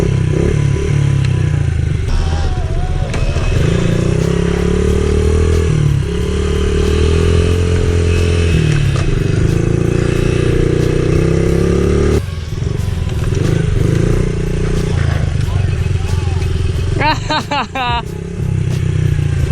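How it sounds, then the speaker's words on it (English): Pit bikes and dirt bikes ride loud and close, their engines droning and shifting pitch with revs for the whole stretch, with a brief clatter near the end. "we are riding dirt bikes"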